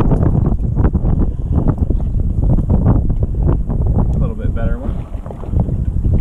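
Strong wind buffets the microphone in loud, rough gusts over open water on Grand Lake, Michigan, during a fishing tournament, with a voice briefly heard partway through.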